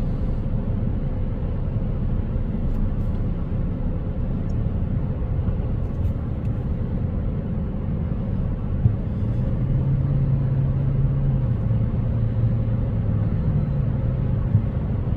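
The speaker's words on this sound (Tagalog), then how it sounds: "Ang daming sasakyan, traffic guys." Heavy road traffic on a road trip, many cars rolling past in a dense, continuous low rumble heard from inside a slowly moving vehicle, with a faint engine drone rising later.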